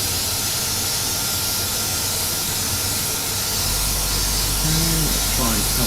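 Spray being applied onto textured paintwork as a steady, close hiss that fills the whole stretch, with a brief low tonal sound near the end.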